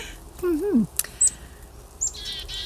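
Birds outside give a few short chirps and a whistled call, spaced out and moderately close, over a quiet indoor background.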